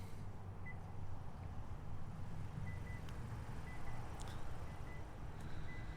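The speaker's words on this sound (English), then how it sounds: "Same 4-beep system, and she's all closed up" A 2022 Kia Carnival EX power liftgate closes with a faint series of short electronic beeps repeating over a low steady hum, heard without any talking.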